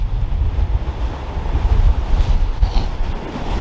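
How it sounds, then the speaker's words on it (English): Steady wind and rolling surf on Southsea beach, a loud continuous rumble of breaking waves with gusty buffeting throughout and no talk. "the wind is dying down and I think the swell's going down a bit"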